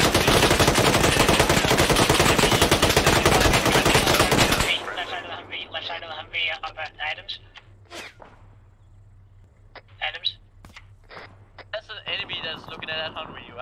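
Gunfire in the military shooter Arma 3 during a town-clearing mission: a loud, dense burst of automatic fire for several seconds, then scattered sharp single shots and short bursts at varying distances, with voices talking between them.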